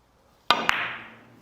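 A billiard cue strikes a ball softly, producing a sharp click followed by a second lighter clack as the balls make contact, then a fading rolling hum on a quiet table.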